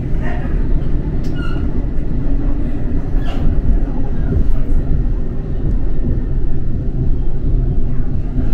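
A Sydney passenger train runs near Arncliffe, heard from inside as a loud, continuous low rumble with faint rattles and brief squeals.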